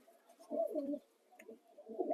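A pigeon in a loft gives a few short, low, throaty coos at close range, quiet and alone.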